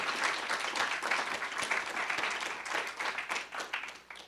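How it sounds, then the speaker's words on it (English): An audience at a student literary journal launch applauds steadily, a dense wash of clapping at moderate volume that tapers slightly toward the end. "Please give her a round of applause."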